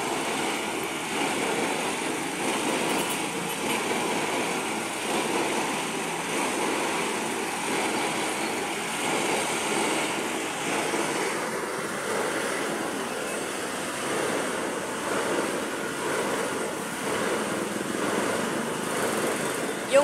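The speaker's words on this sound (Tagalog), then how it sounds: "Yung water pump yun" A water pump running under test near a footbridge, a loud steady mechanical drone with a buzzing engine-like whine, constant throughout with faint speech underneath.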